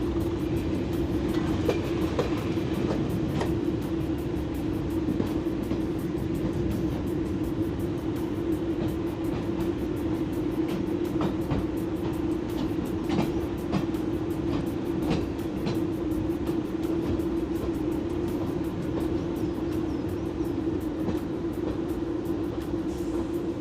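A heritage passenger train on the Norfolk Poppy Line arrives at Holt station, heard from inside the carriage as a steady rumbling hum with faint rhythmic wheel clicks, fairly quiet and continuous, no voices.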